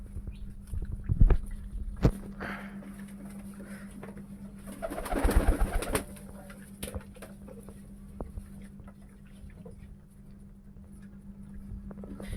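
Pigeons in a pigeon farm cooing and drinking water, soft low coos near and far with scattered clatters and wingy bursts, a busier flurry in the middle.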